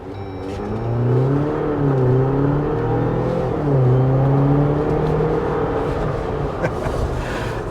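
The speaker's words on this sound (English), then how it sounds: "let's stop right here and let's see how fast it can accelerate" A 2024 Jeep Wrangler 4xe Rubicon X plug-in hybrid accelerating from a stop, its engine note steadily climbing and shifting through gears as a loud, continuous drone without any talk.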